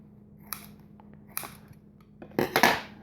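Knife cutting through a blade steak on a board in three separate bursts, the last one longest and loudest, each a short crisp slicing scrape; no talking.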